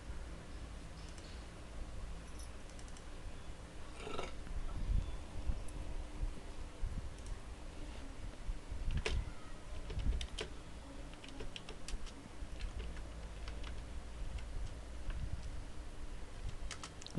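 Steady clicking of keys on a computer keyboard as a command is typed into a Mac logged in to an Active Directory account, with irregular bursts of taps and a few louder strokes, close and fairly quiet, no talking.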